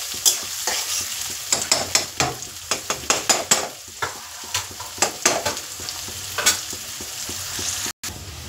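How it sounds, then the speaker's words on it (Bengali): Finely chopped onion frying in a pan for a dhaba-style egg tadka, a continuous sizzle punctuated by a series of sharp stirring scrapes and clacks at an irregular pace. "খুব ভালো করে সবগুলো একসাথে লাল করে আমায় ভাজতে হবে।"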